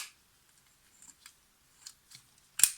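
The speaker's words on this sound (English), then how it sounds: "I hear harshness, the shutter still doesn't want to close all the time." Zorki 1 rangefinder camera being worked on after parts were swapped in from a FED 1, with a few faint mechanical clicks and then one sharp, harsh shutter snap near the end in an otherwise quiet room.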